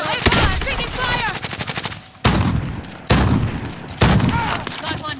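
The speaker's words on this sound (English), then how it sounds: "Taking fire!" Gunfire in Call of Duty: Warzone, rapid automatic bursts of shots stopping and restarting in several loud volleys, close, with excited voices talking over the firing.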